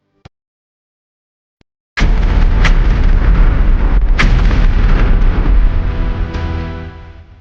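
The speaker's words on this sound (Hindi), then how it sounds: "हमारे सोल्जर्स ने पाक सेना की फर्स्ट रो के टैंकों पर बहुत एक्यूरेट फायर किया।" Two faint ticks come first, then a loud sudden blast as PIAT anti-tank weapons fire on the front row of tanks in an animated 1971 India-Pakistan war battle, a heavy rumbling boom with cracking reports that slowly fades.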